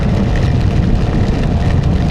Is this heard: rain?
yes